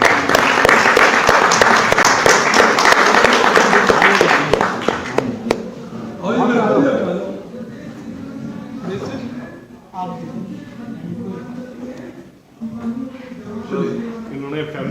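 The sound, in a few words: audience round of applause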